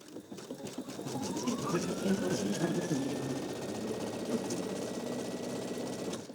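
A sewing machine runs a 3-step zig zag stitch over a tear in fabric, with a steady close whirring hum and rapid needle ticking held for several seconds.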